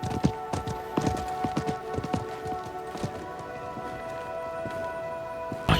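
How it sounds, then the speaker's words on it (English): The merchant's horse in Diablo 4 clip-clops along in a steady run of hoof beats at moderate distance, set against a soft ambient backdrop with no talk. "I think that was the merchant's horse."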